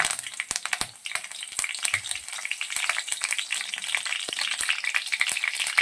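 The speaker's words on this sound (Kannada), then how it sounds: "ಸೊ ಈಗ ಇದಕ್ಕೆ ಕರಿಬೇವಿನ ಸೊಪ್ಪನ್ನು ಸೇರಿಸ್ತಾ ಇದ್ದೀನಿ." Curry leaves and mustard seeds frying in hot oil in a pan while cooking bisi bele bath, heard as a steady close crackling sizzle with sharp pops throughout.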